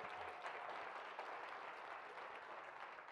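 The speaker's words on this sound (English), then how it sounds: "give him a round of applause for that" Faint, distant audience applause at a conference plenary session fills the hall as a steady, even wash of clapping without clear individual claps.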